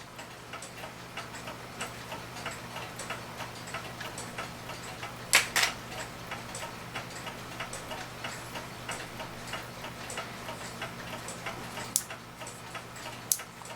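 A Dutch Zaanse clock movement with its governor ticks steadily and close up, a fast even run of light ticks broken by a few sharper, louder clicks.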